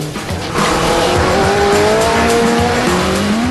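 A Caparo T1 race car brakes hard, its tires squealing loudly in long whining tones over a constant engine roar, sustained and close.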